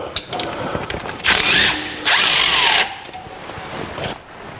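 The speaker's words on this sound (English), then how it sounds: "We'll take this next bolt out." A power tool, likely an impact driver, zips in two bursts of about a second each, loud and near, as a bolt comes out during removal of a vehicle's engine, transmission, transfer case and bell housing.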